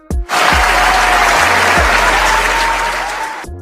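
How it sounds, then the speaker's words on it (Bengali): A loud burst of clapping from an audience starts after a brief pause, stays dense and sustained for about three seconds, then eases slightly before stopping. "সবাই তাড়াতাড়ি হাততালি দিন"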